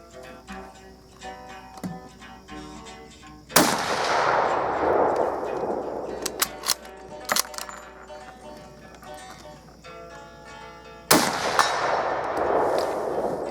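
Several sharp, loud gunshots from a Berthier M16 cavalry carbine crack out at irregular intervals, each followed by a ringing metallic echo, with smaller clanks of the rifle's action between shots.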